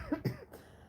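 A single person coughs twice in quick succession, close and fairly soft, followed by quiet room tone.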